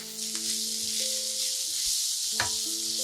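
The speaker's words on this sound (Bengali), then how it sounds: "গোলমরিচের গুঁড়ো, একটু ভেজে নিব।" Black pepper powder frying in a pan for bread balls produces a continuous bright hiss, broken by two brief scraping stirs.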